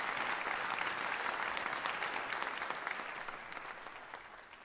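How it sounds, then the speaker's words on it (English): Church congregation at a Salvation Army Sunday holiness meeting breaks into loud, sustained applause, dense clapping that holds steady and then slowly tapers off toward the end, with no talk over it. "That's worth a round of applause,"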